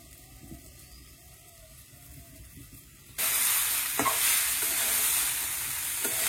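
Vegetables fry in a pan in a Bangladeshi village kitchen; a quiet room gives way halfway through to a loud, steady hiss of frying with a few faint stirring knocks.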